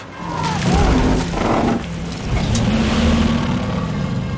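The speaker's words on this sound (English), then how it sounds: "both cars come to a deafening stop" Cars in a chase scene from the film Death Proof crash to a stop, heard as loud booming impacts and grinding metal over a roaring engine, with faint talk.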